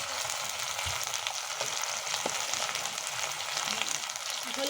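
Giant river prawns sizzle in hot oil with ginger-garlic paste, turmeric and chilli for a Bengali dopeyaja, a dense steady frying hiss with a few faint stirring knocks, near and unbroken, without talk.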